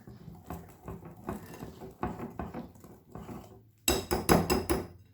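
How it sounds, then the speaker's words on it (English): A whisk beats eggless chocolate cake batter in a bowl, making close, uneven bursts of rapid tapping and clatter, with a sharper, louder run of strokes after a short pause. "We will mix with the whisk."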